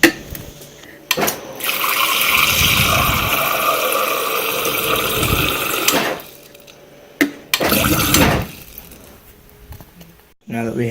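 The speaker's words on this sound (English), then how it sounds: "Now that we have our 8 ounces of water" Water is poured into a measuring container for a drink-mix experiment in two bursts, a longer steady stream of about four seconds followed by a brief second splash, with small clatters around them.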